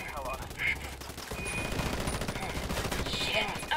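Rapid automatic gunfire in the multiplayer shooter Ghost War rattles in dense, loud bursts, with sharp single shots before them and game sounds and a voice under the firing.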